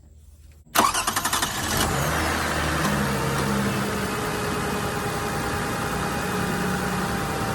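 A 2006 Toyota Highlander's 3.3-liter engine cranks briefly with rapid starter pulses, then catches and settles into a steady, loud idle close by, with no one talking.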